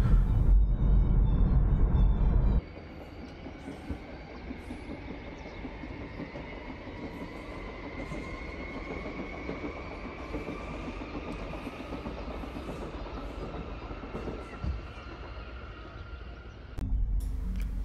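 A Swiss train runs toward Zermatt, with a steady rumble and rattle of the carriage heard from inside at moderate level. A louder burst of noise comes at the start and again at the end.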